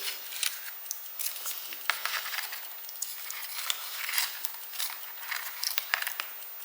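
Scissors snip out small paper license plates for a Rolife model garage kit, a steady run of close, crisp cuts with faint paper crinkling between them.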